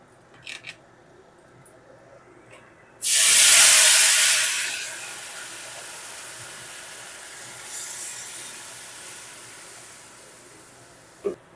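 Vegetables hit hot spiced oil with a sudden loud sizzle that hisses strongly, then settles into a steadier, quieter frying crackle, with no one talking.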